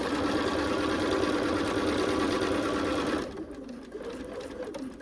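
A sewing machine runs steadily while stitching fabric, loud and continuous, then drops to a quieter, lighter whir for the last couple of seconds.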